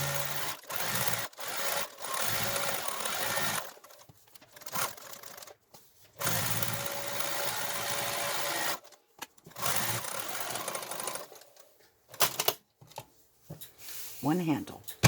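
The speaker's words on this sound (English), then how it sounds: "we're going to run our machine over, and we're going to catch the outside edges" Sewing machine stitching down the outside edges of a denim shopping bag handle made from old jeans, running in several bursts of steady whirring separated by short pauses, close and fairly loud.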